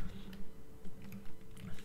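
Keys clack on a computer keyboard as a short search term goes into a Windows 10 search bar, a handful of soft, close taps in a brief uneven burst.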